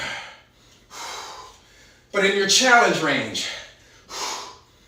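Heavy, forceful breaths puff in and out during a total-body dumbbell workout, with a loud gasping exhale in the middle, close to the microphone, as an instructor speaks briefly between them.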